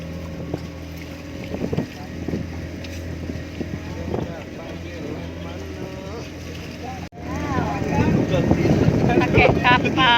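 A small boat motors out from a damaged harbour dock toward Nusa Penida, Bali, its engine droning steadily under wind buffeting and voices, growing louder and rougher near the end.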